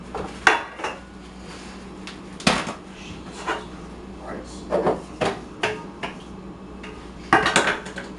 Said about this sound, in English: So yes, I'm using a cake pan.